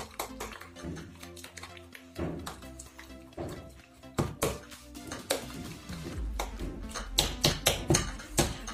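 A spoon stirs food in a dish with yogurt, a little black pepper and salt, making close clinks, taps and scrapes against the bowl in an uneven, quickening rhythm.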